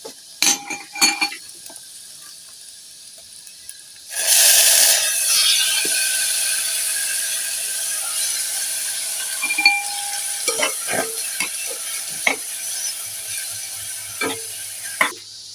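Squid and garlic fry in a pan for squid adobo, a loud steady sizzle bursting in partway through, with metal utensil scrapes and clinks as the mixture is stirred.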